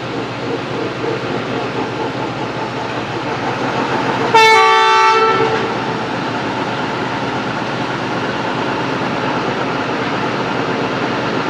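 Sialkot Express passenger train pulling away from a stopped halt at Badami Bagh station near Lahore during heavy rain, a loud harmonic horn blast sounding for about a second over steady rumbling rail and rain noise.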